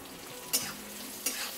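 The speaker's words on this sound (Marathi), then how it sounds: "कांदा जरा चांगला आपण भाजून घेऊया" Sliced onion frying in a pan, a steady soft sizzle with two sharp scrape-and-stir accents from a utensil, close and moderately quiet, no voices.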